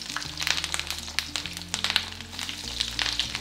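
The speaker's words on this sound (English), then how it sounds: "now we're just gonna put it in our oil. Yep, it's hot." Salmon cakes for a keto recipe frying in hot oil in a pan, giving a steady close crackling sizzle with frequent sharp pops, heard alone under faint background music.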